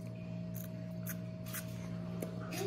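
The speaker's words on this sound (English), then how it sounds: "Now it's time for the super sour sprays." Short hissing bursts of super sour candy spray come from a small pump bottle. There are about five quick sprays in an uneven rhythm, close to the microphone over a steady background hum.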